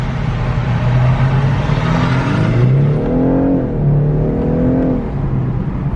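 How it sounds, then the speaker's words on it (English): A turbocharged loaner car accelerating from inside the cabin, steady engine drone with rising and falling pitch sweeps and a faint whir over the top, no talking. "Can you guys hear the turbo?"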